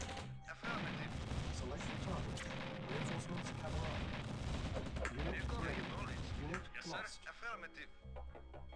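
Dense turret and pillbox gunfire from Command & Conquer: Red Alert, a continuous loud barrage of shots and booms with game music and effects throughout and someone talking over it.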